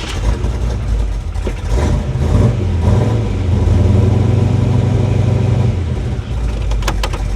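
A hot rod with a failing transmission is shifted into drive; its engine holds a loud, steady low drone for several seconds with rattling over it, then sags and stumbles near the end.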